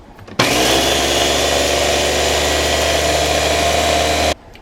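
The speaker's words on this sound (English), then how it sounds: "I'm just going to put it into the blender and blend it all up" A blender grinds oats into oat flour, starting abruptly and running as a steady, loud, close whir for about four seconds before cutting off.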